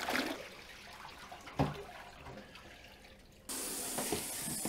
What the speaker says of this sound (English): I'm probably going to do like, I don't know, 2 or 3 cycles with the water until it gets clean